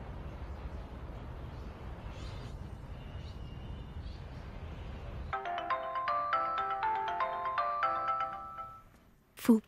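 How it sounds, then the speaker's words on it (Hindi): A mobile phone ringtone plays a bright, repeating melodic tune of clear notes, fairly loud and close, after a stretch of low rumbling background noise in a Hindi-dubbed Chinese drama scene, ending with a brief sharp burst. "जल्दी अपना फोन उठाओ ना। ये सुबह से तुम्हें कॉल कर रहा है।"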